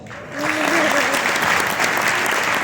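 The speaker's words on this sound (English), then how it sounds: "Let's give Aaliyah one more round of applause." A graduation ceremony audience gives a round of applause, a brief voice at the start giving way to a full, sustained wash of clapping.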